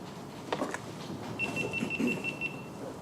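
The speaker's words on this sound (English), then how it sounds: "Is that beeping a good thing or a bad thing?" Random electronic beeping, a thin high tone pulsing in a quick irregular run for about a second, fairly faint over a soft background rustle during fly tying.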